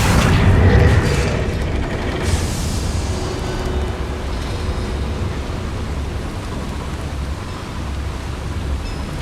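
Incendio fire spell cast in Hogwarts Legacy, a loud booming whoosh of flame that bursts at the start and then settles into a sustained roaring, crackling rumble.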